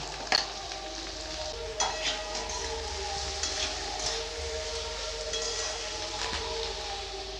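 Chopped cauliflower and potato fry in hot oil with black cumin and ginger, a steady close sizzle with occasional clinks and scrapes of stirring, no talking.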